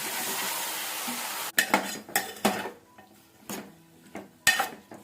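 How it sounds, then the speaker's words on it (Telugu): Raw green tomatoes go into a hot pan: a loud clatter of utensil against metal, then a short sizzle, followed by several sharp scraping, stirring knocks spaced about a second apart. "పచ్చి టొమాటోస్ని ఇందులో వేసేస్తున్నాను"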